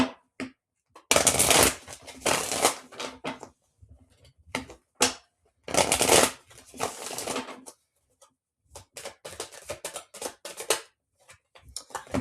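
Tarot cards are shuffled in several loud, riffling bursts, with softer taps and flicks between them as cards are pulled from the deck, in a quiet room.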